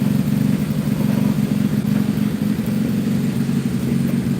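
The small engine of a Wheel Horse B115 tractor, its carburetor freshly cleaned, runs at a steady idle with a loud, continuous low throb and even rumble, close by, with no speech.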